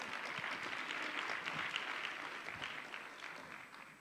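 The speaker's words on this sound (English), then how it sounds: "Let's give him a round of applause again." Sustained applause from a large audience at a business fireside chat, a dense steady wash of many hands clapping that carries on evenly for several seconds before easing slightly at the end.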